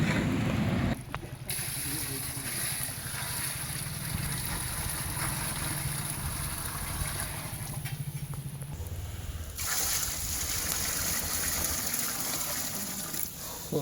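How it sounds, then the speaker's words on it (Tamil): Water pours in a steady, loud gush into a large biryani cooking pot outdoors in a village kitchen, holding a continuous rushing flow with only brief shifts in level. "ஸோ தண்ணி ஊற்றிட்டோம் ஃப்ரெண்ட்ஸ்."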